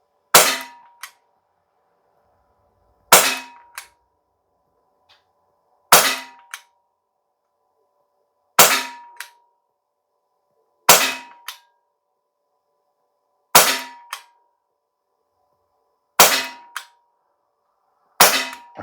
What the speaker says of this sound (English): So we're going to start with pellets.